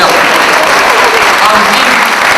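Audience applause fills a hall at a Dan Puric stage talk in Lupeni, a dense, steady, loud clapping from a large crowd that carries without pause.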